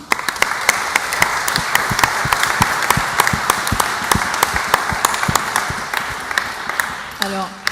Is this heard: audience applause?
yes